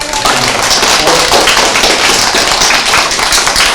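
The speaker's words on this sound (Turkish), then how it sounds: "Kendimizi alkışlayalım mı çocuklar önce?" Schoolchildren at a municipal child-friendly event clap for themselves, a loud, dense, continuous patter of many small hands with no pauses and no voices on top.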